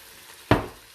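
Chopped onions for chili drop into a hot pan, setting off a sudden loud sizzle midway that flares up and then slowly settles into a steady fry.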